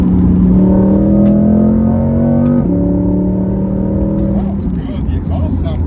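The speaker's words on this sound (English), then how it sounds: "The exhaust sounds nice on this." A Ford Mustang GT's exhaust rumbles steadily nearby, its engine note climbing slowly, then dropping and settling into a lower, even drone that fades slightly toward the end.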